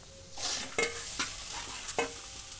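Banana stem and green gram thoran fries dry in a pan, a soft close sizzle punctuated by several sharp stirring scrapes at irregular intervals.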